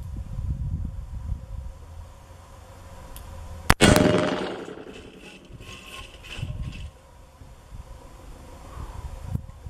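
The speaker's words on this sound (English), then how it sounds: "And now we'll see about the 44 mag." A .44 Magnum revolver fires at a target in one sharp, loud report near four seconds, with a ringing tail that decays over the next second or two. Faint outdoor wind and noise surround it.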